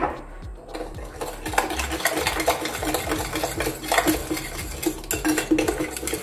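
Milk and sugar being stirred together for pineapple-peach juice, a utensil scraping and clinking against the bowl in busy, continuous rhythmic strokes, fairly close and steady with no talking.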